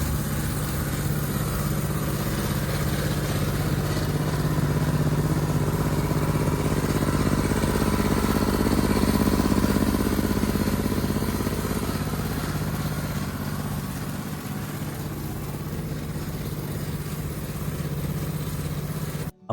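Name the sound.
go-kart engine running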